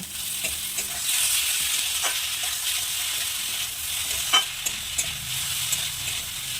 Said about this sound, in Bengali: সবগুলো একসাথে নেড়ে নেবে